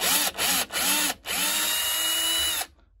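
Power drill whirring in several short bursts with brief pauses and then one long sustained run, backing screws out of a broken, leaking door on a Samsung Ecobubble washing machine, close and loud.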